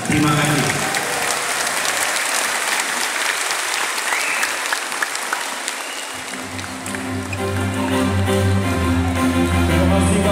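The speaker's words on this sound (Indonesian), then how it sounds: "sekali lagi kita tepuk tangan untuk Pak SBY" A rally crowd of supporters claps loudly for SBY in Yogyakarta, sustained dense applause over the whole stretch with cheering, and a speaker's amplified voice coming through near the end.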